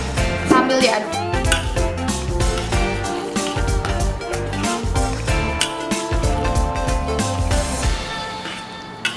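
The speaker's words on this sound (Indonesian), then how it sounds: "Ini masukkan secukupnya, kita masukkan secara perlahan sambil diaduk." A utensil stirring a thickening tapioca starch slurry into black pepper beef sauce in a pan, soft scraping and clinking under a steady backdrop of music, with a voice talking in between.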